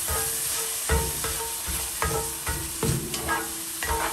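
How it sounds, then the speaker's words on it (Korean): Minced garlic stir-fries in a little oil, a bright continuous sizzle broken by repeated scraping strokes of a utensil across the pan, roughly one every half second to second, close and fairly loud. "기름을 약간 두르고요. 다진 마늘 한 큰술 넣습니다. 마늘 향이 나도록 볶아주세요."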